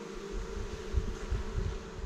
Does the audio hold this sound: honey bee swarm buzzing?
yes